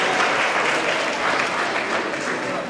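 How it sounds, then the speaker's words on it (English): A conference audience at a morning face-to-face career and technical education event gives a rousing round of applause, a dense, steady wash of many hands clapping close and loud for about three seconds. "Give me a rousing round of applause if you hear my voice"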